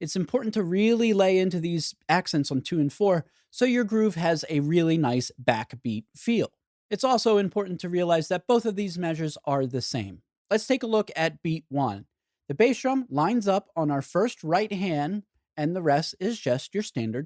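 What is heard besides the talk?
None of the usual background noises is heard.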